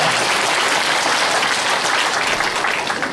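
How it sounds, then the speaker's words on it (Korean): An audience at a formal assembly claps steadily and densely to approve the appointment of three co-representatives, a continuous near wash of applause with no talk, holding level for the whole stretch. "박수로 승인해 주시기 바랍니다."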